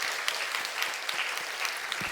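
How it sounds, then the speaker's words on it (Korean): A church congregation claps together in steady, dense applause during a Sunday worship service, honoring new members being confirmed; the clapping is sustained and even from start to finish, with no voices over it. "우리 하나님께 영광의 박수 올리겠습니다"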